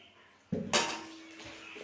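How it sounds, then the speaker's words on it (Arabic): Egg is mixed into ammonia biscuit dough in a bowl: a sharp clatter and then a bright metallic clink of a utensil against the bowl, followed by a faint ringing tail, close and quiet. "وهنخلط مع بعض كله"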